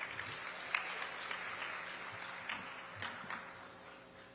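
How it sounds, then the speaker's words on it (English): Scattered applause from an audience at a humanitarian awards ceremony in Houston, fairly faint and distant, with uneven claps fading across a few seconds. "Give her a round of applause."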